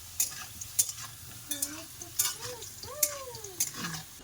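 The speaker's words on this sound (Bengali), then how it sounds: "আলু পুরোটা ভাজা হয়ে গেছে এবার তুলে নেবো আমি" Fried potatoes being lifted out of hot oil, with gentle sizzling and repeated sharp clinks and scrapes of a utensil against the pan, along with some faint whistling tones in the background.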